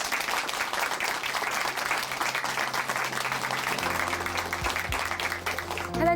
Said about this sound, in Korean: 다시 한번 조아라 자매님께 박수 보내드릴게요.